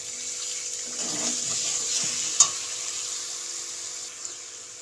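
Water is added to a spice masala frying in a pan for a vegetarian aloo dum, giving a soft hiss and sizzle with one brief sharp splash partway through.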